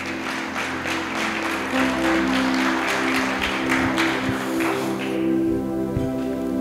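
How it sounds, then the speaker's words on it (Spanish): Applause from a church congregation, loud and continuous, over a sustained organ or keyboard chord that carries through as the clapping thins out near the end. "denle un fuerte aplauso al Señor"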